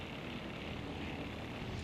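A propeller airplane engine from the Crimson Skies video game drones steadily, a continuous faint buzzing hum with no breaks.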